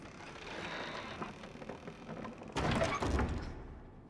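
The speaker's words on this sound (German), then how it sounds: "Und die Türe geht auf" A door opening in Little Nightmares 2, quiet creaking and shuffling building up before a louder scraping, rattling swing near the end, then the sound fades away.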